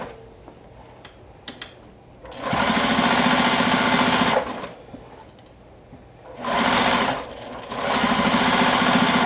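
A sewing machine straight-stitches a minky blanket in two sustained, loud runs of rapid mechanical whirring, separated by a short pause, heard close and alone.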